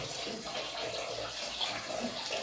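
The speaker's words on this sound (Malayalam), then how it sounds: "ചിക്കൻ കഴുകിക്കൊണ്ടിരിക്കുന്നത്" Raw chicken being washed in water, a steady close splashing and trickling wash that runs without pause and with no talk.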